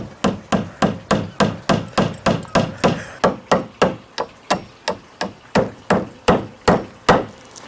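A nail is hammered in to fix a hook near a pole while repotting an older yamadori bonsai, about twenty steady, evenly spaced strikes, close and loud, with no talking.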